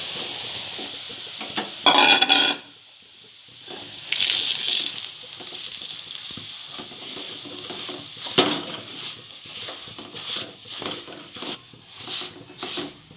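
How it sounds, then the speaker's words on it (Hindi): Semolina poured into very hot homemade desi ghee, 250 g, in a pot on a gas stove, then roasted: sharp sizzling bursts followed by steady frying crackle and scraping, clinking stirring sounds close by, with no talking. "अब मैं इसमें ये रवा डालकर भूनूंगी"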